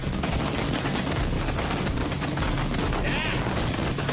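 Pyrotechnic fireworks fired on cue from a rooftop show crackle in a dense, continuous barrage of loud, rapid bangs, with a voice faintly underneath.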